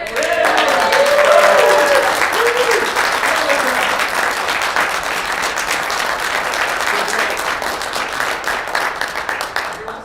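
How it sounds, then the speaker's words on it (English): A meeting room breaks into sustained applause from a group, dense clapping that stays loud for about ten seconds before slowly thinning toward the end. "so we can finally applaud"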